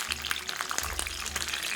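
Peppers frying in hot oil, crackling and spitting with dense irregular pops and sizzle, close and fairly loud, with a low hum underneath.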